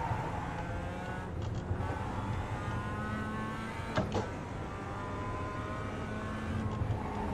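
Mazda MX-5 race car engine in the iRacing sim, running a PCC MX-5 Cup race at Mount Panorama, gives a steady, droning engine note that holds at an even loudness throughout, with no talking.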